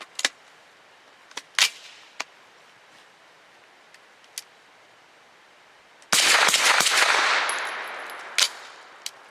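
A single sharp, loud gunshot from a Grand Power Stribog carbine firing MAGTECH 95 grain jacketed soft points, ringing out and decaying, preceded by a few faint clicks and handling sounds.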